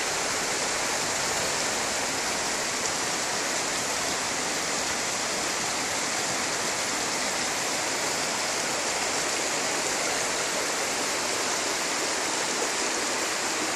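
Floodwater rushing down a sloping street in Elche during heavy rain, a loud, steady, broadband roar of running water that holds unbroken and close throughout, with no voices.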